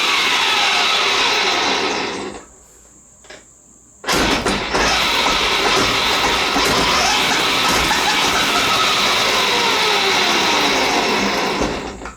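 A homemade six-speed electric three-wheeler runs in sixth gear with a loud, continuous motor whine and rushing noise, which drops away briefly for a moment early on before surging back and holding steady.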